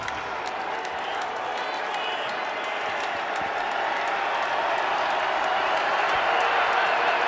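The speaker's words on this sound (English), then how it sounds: "Nervous crowd here in Indy." Steady roar of a nervous stadium crowd at an NFL game in Indianapolis, Colts hosting the Buccaneers, a broad sustained murmur that swells slightly toward the end with scattered claps.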